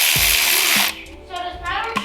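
A short burst of an impact wrench tightening spark plugs on a 2015 Chevy Cruze whirs loudly at the start, followed by softer clinks and shuffling handling noises nearby.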